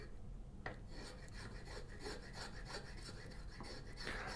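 A file rasping a chamfer into a wooden piece for a handmade turning or coping saw: repeated scraping strokes in a steady back-and-forth rhythm, close and fairly quiet, without any voice.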